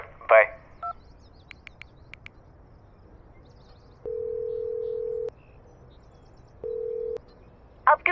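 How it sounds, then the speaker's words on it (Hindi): A phone call is placed: a quick series of dialing beeps, then two long, steady ringback tones separated by silence, faint and clean, with brief voice fragments at the start and end. "कॉल करता हूँ उसे"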